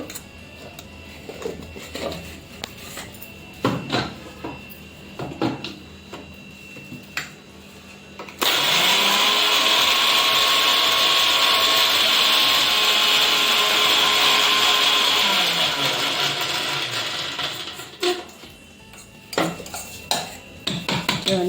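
A kitchen mixer grinder whirs loudly for about ten seconds as it grinds sugar, set between clinks and knocks of dishes and utensils that come before and after.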